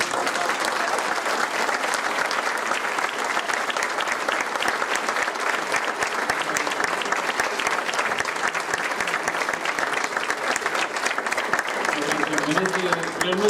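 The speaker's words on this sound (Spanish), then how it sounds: "Realmente merece muchos aplausos" An audience at a conference on Egyptian influence on Mexican cuisine gives chef Carlos Juanico dense, continuous applause, which holds steady for over thirteen seconds with faint voices under it near the end.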